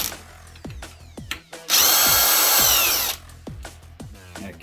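Ryobi One+ HP cordless impact wrench hammering on a bolt, a loud, steady rattling burst of about a second and a half, surrounded by lighter tool clatter and handling knocks before and after.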